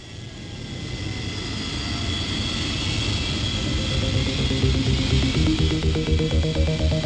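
A fixed-wing aircraft's jet engine roars steadily on an airfield apron during ground handling, the broadband whine and rumble building slowly in loudness throughout, with no voices.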